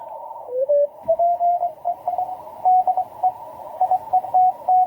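Amateur radio signal from an Italian station on the 20 m band, a steady tone-like carrier with rhythmic on-off keying over a faint hiss, alone with no talking.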